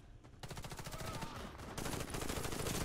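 Rapid automatic fire from a PPSh submachine gun in Warface, a continuous burst of tightly spaced shots running the whole way, with a brief pause just before the second half, loud and close.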